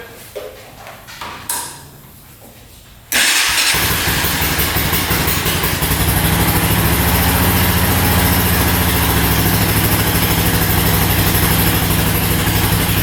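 Quiet clicks and a few sputters, then a small Honda ATV engine, just given a carburetor cleaning, catches abruptly and settles into a steady, loud, close idle that runs to the end.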